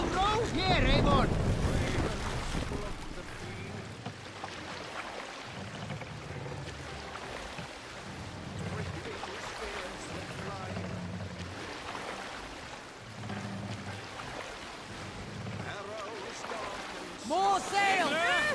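A Viking longship sails and rows in Assassin's Creed Valhalla, with steady rushing water and wind and rhythmic oar strokes pulsing at regular intervals, while voices chant and talk over the top.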